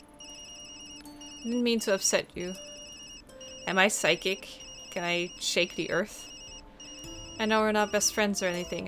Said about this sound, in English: that's my phone. Work again?